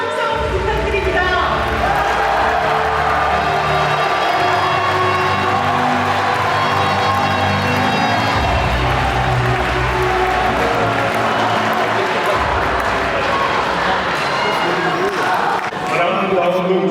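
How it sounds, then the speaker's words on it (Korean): A large crowd at the 2025 Rebuilding Korea Party national convention at Cheongju OSCO applauds and cheers for party leader Cho Kuk. Dense, loud, sustained clapping and shouting fills the hall, with a voice amplified over it. "여러분 뜨거운 박수와 함성 부탁드립니다"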